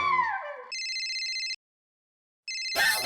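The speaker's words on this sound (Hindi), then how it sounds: "दया का फोन।" A phone rings twice: two bursts of bright, repeating electronic ringtone tones separated by a second of silence, followed by a short noisy clatter at the end.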